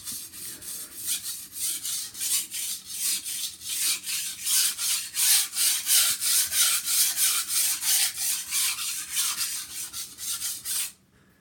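A kitchen knife drawn freehand across a whetstone makes a long even series of rhythmic scraping strokes, about two per second, close and clear, ending abruptly in quiet.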